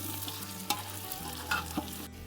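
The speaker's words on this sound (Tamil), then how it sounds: "நல்லா ஃப்ரை ஆயிடுச்சு இப்போ பாரு கொஞ்சம் ப்ரௌன் ஆயிடுச்சு" Round-cut potato slices frying in a pan give a loud, steady sizzle, with a few quick scrapes as they are stirred, and no voices.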